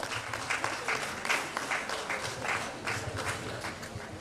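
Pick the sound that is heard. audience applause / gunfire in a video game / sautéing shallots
audience applause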